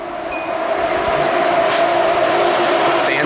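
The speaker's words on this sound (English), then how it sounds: "Fans are going." Electric radiator cooling fans whir in a 240sx drift car fitted with a VQ35DE, a steady, loud broadband rush with a faint tonal hum, running alone without talk.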